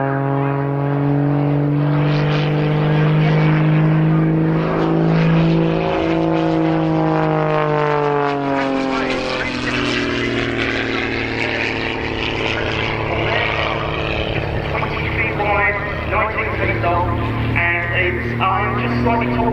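Aerobatic propeller airplane at an airshow, a homebuilt kit type fitted with an engine of over 300 horsepower, droning loudly and steadily with the pitch rising and falling as it climbs into a loop, with a voice talking over it throughout.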